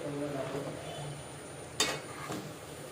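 Chukkakura curry in a full kadai is stirred over low, quiet sizzling, with one or two brief spoon scrapes against the pan.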